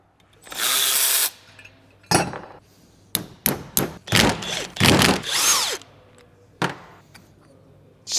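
Tools clank and thunk against the AC compressor of a V12 BMW 850CSi as its manifold is removed, with a long harsh grinding burst followed by a run of sharp, close metallic knocks and scrapes separated by short pauses.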